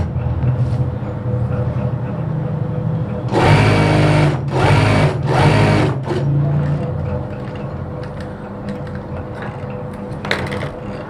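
A sewing machine stitches a side pocket onto a kameez in three short loud whirring bursts, with quieter handling sounds before and after.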